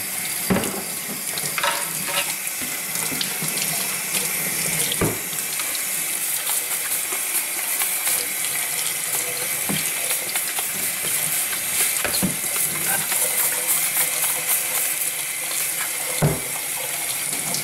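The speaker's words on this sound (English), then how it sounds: "now we'll just try some hot water" Hot water rinses the engine bay of a Porsche Cayenne Turbo during detailing. The spray makes a continuous close hiss and splash, with occasional sharper bursts as the stream strikes metal and plastic.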